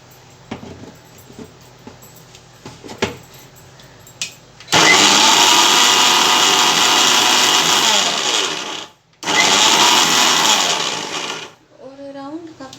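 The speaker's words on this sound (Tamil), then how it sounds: "இப்போ நீம் லீவ்ஸ் ட்ரை பண்ணியாச்சு. இதை எப்படி பவுடர் பண்ணலான்றதை செஞ்சு காட்டுறேன்." Mixer grinder powdering dried neem leaves roars loudly in two long bursts with a brief pause between, after some quiet handling clicks and knocks.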